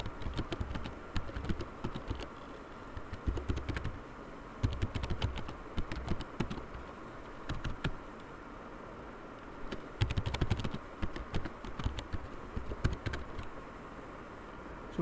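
Password being typed on a computer keyboard while setting up Kali Linux in VirtualBox, with close, irregular bursts of key clicks in clusters and short pauses, heard alone with no talk.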